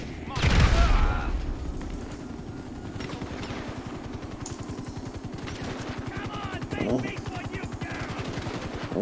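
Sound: grenade launcher firing in video game Grand Theft Auto 5

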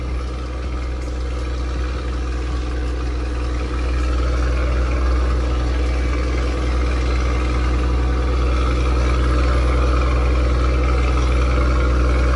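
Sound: truck exhaust valve engine brake

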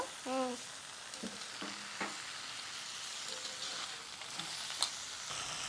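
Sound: crab being stir-fried with spices in a pan

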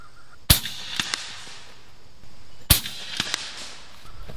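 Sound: Gauntlet 30 air rifle shots with Griffin ammo

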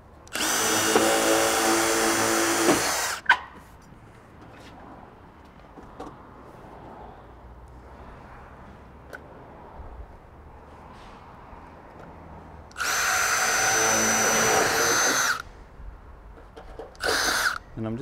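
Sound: power drill pre-drilling hole

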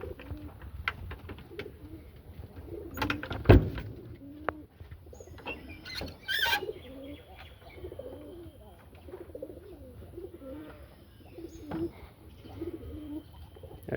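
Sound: Jalali pigeons cooing

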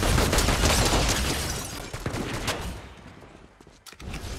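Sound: gunfire shooting at player in Fortnite video game

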